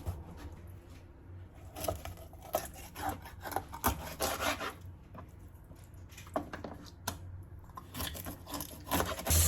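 A knife scrapes and saws through a milkfish on a board in uneven, rasping strokes, close up, with a low background hum and no speech.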